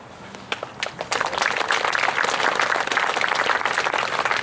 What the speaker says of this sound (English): go ahead, make a clap